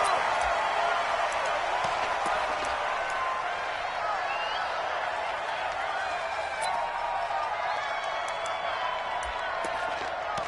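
Crowd noise from a PS4 American football video game, Jacksonville Jaguars versus London Black Knights, a steady loud roar of cheering stadium fans with scattered whoops throughout, with commentary talk over it.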